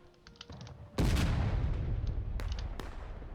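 An artillery shell explodes in the Civil War video game War of Rights, a sudden loud boom that rolls and decays slowly, followed by a few distant gunshots after faint early pops.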